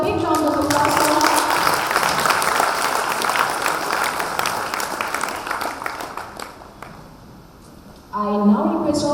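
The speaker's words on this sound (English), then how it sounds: "Can we have a big round of applause for her?" Audience at a children's graduation day ceremony giving a big round of applause, loud dense clapping that gradually thins and fades, with voices briefly heard as it ends.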